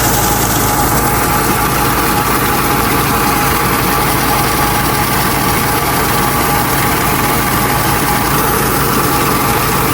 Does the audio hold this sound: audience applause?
no